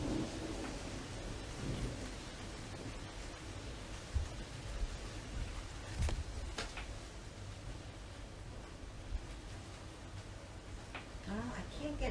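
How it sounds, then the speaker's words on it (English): Soft, steady rainfall hisses through the whole stretch while low rumbles of thunder roll in now and then, one louder swell standing out midway; distant and gentle rather than close or harsh. "you're just going to have to listen to the rain. And the thunder on occasion."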